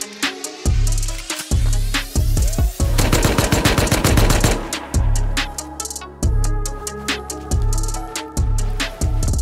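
Rapid gunfire rings out close and loud, single shots and quick bursts repeating in uneven rhythm throughout, with no talk over it.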